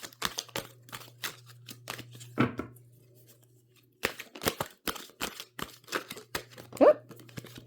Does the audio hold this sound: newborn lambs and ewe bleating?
no